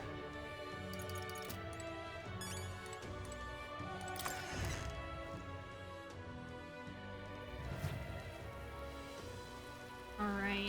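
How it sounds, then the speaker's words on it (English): Rain patters steadily in the video game Metaphor: ReFantazio, a continuous drizzle on surfaces beneath layered game music, with a few sharper clacks. "Oh, I hate the rain."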